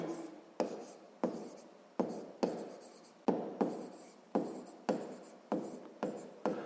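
Pen strokes on paper during a sixth-grade maths exercise, a series of about a dozen short scratchy writing strokes in an irregular rhythm, each starting sharply and trailing off, close and fairly quiet with no talking.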